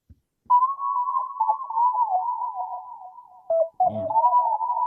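A synth lead pattern from an SQ80 plugin preset, a clear sustained melodic line with small pitch wiggles, played alone and fairly loud, with a short break before it resumes.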